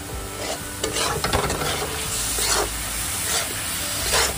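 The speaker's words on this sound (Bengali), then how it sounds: "এইভাবে ভালো করে নাড়িয়ে ভালো করে শুকনো করে নেব" A malai sandesh mixture made from split, spoiled milk is stirred in a hot pan to dry it out. The close, continuous scraping repeats in strokes over a soft, steady sizzle, with no talking.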